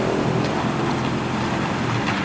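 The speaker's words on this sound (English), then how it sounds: "Joe's just taken the car for a test drive just to check everything is okay." A car driving off on a test drive on a road, with a steady broadband engine and road rumble. The sound holds constant throughout, with no talk.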